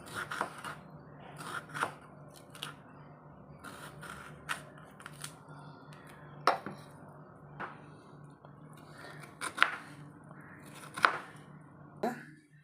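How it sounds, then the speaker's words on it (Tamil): A knife chops through beetroot on a cutting board in a home kitchen, giving a series of close, irregular thuds and crisp slicing clicks, with a few sharper knocks scattered between. "இப்போ நாம் பீட்ரூட்டை நல்லா கட் பண்ணி எடுத்துக்கலாம்"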